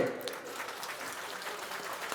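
An audience at a BJD party joining ceremony at the state office claps, giving a faint, distant, steady patter of applause that lasts the whole short moment.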